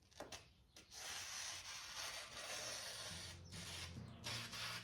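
Faint, rough scraping and rubbing as a knife is drawn across a Work Sharp Ken Onion belt sharpener, with uneven grinding strokes and a low motor whir that rises toward the end.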